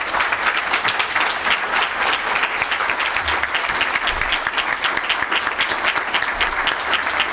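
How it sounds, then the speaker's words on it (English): A room full of people at a 2nd District candidates' forum in Petaluma applauds at the close of the evening, sustained, even clapping from a moderately sized audience lasting several seconds without a break. "Let's give them all a round of applause."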